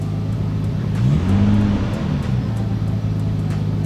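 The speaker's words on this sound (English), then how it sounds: "Revs up, goes back down." A Nissan Skyline R32 engine idles at about 1,000 RPM, then revs up once and settles back down to a steady idle, heard up close.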